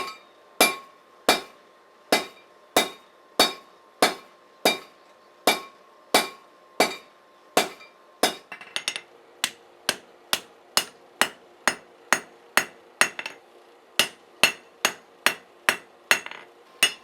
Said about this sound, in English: I'm going to go to the edge of the anvil to finish forging that out